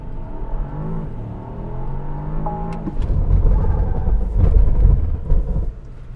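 On a race track, a Porsche's engine rises in pitch as it accelerates, then drops into a deep, louder roar through the second half, heard from inside the car with no talking.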